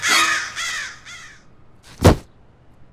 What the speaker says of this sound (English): And then a crow came right for us.